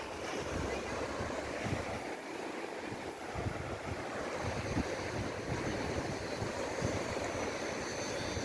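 Sea waves wash steadily against the shore at Alexandria, a continuous broad surf roar mixed with wind buffeting the microphone, with no one speaking.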